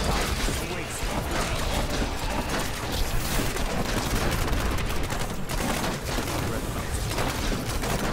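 Dense, continuous barrage of booming grenade explosions and blasts from enemies in Diablo 3 combat, loud and unbroken with crashes layered throughout, and a voice talking over the chaos.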